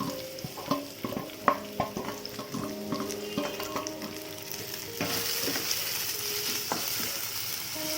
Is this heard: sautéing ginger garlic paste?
yes